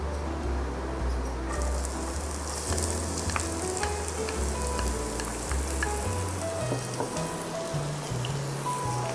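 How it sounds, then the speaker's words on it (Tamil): Onions frying in hot oil in a pan, a dense crackling sizzle heard up close, steady throughout with scattered spatters and light stirring scrapes, no voices over it. "இப்போ எண்ணெய் காஞ்சிச்சு. நம்ம வெங்காயத்தை சேர்த்துக்கலாம்."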